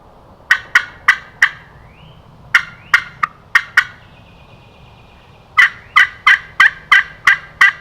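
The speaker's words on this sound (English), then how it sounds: "He just gobbled, didn't he?" A wild turkey gobbles outdoors on a hunt in three loud, fairly close bursts of rapid, warbling gobbles with short quiet gaps between them.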